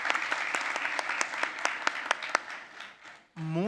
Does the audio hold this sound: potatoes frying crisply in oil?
no